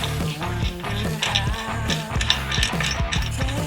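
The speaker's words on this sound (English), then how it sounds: "We're going to thread on our washer and our nut." A washer and nut are threaded by hand onto a whip light mount on a CFMoto ZForce, producing close, rapid metallic ratcheting clicks in a steady rhythm with no talking.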